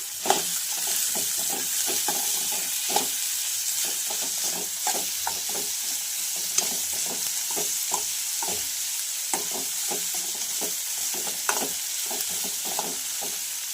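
Grated fresh coconut and tomato sautéing with onion in a pan, a steady crackling sizzle broken by frequent scraping stirs and occasional sharp spatula clicks against the pan, close and continuous without talk.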